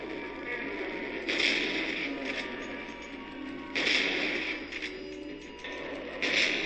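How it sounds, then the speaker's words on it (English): Shotgun blasts in Silent Hill 2 boom out at roughly 2.5-second intervals, three loud bursts each followed by a rattling tail. A low ambient drone runs underneath throughout. "Just keep blasting with the shotgun and you should be fine"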